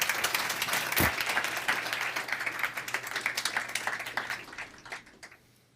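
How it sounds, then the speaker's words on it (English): Audience applause at the close of a veterans-in-tech keynote, a dense, steady wash of many hands clapping that holds loud for several seconds before thinning and fading out at the end. "Big round of applause."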